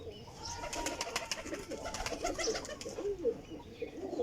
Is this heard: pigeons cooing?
yes